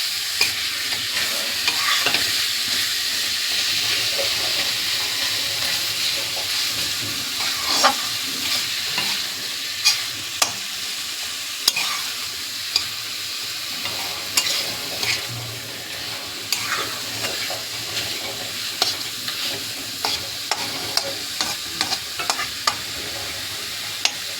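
Fish curry frying in the fish's own oil with no added oil, a continuous sizzle under repeated sharp clinks and scrapes of stirring, close and fairly loud throughout.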